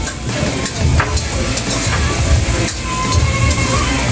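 Onion and ginger sautéing in hot oil, a loud continuous sizzle with scraping stirs and occasional clicks throughout.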